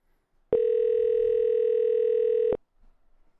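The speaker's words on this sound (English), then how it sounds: "Okay, here we go. We're dialing." Telephone dial tone on a call being placed: a loud, steady, unbroken tone lasting about two seconds, then stopping abruptly, with faint quiet noise after it.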